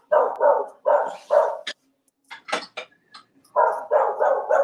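A dog barks in the evening in two runs of loud close barks, four in each, with a few higher yips and whines between them and no talking.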